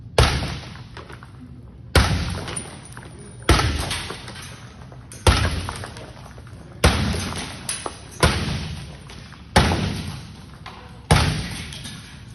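A plastic-laminated glass window inside a gym is struck repeatedly, eight heavy thudding blows at roughly even intervals of about a second and a half, each a loud close impact with a rattling decay; no one speaks.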